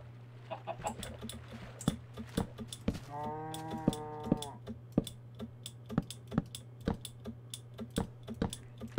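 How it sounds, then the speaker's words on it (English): A Minecraft cow lets out a drawn-out, wavering moo lasting over a second, set against steady computer keyboard typing and a constant low electrical hum. "Why is there a cow underneath here?"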